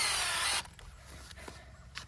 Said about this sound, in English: pre-drilling the hole with this long drill bit